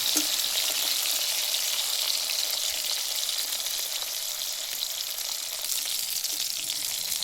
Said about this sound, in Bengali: খুব বেশি কড়া করে ভাজবো না, পিঠে পিঠে একটু হালকা লাল করে ভেজে নেব।